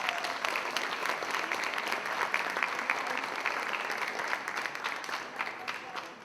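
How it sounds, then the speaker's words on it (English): Audience applause at a career and technical education awards ceremony, a sustained, dense round of clapping from a sizable crowd that keeps going for several seconds and eases slightly at the end. "Big round of applause for Sally Ann."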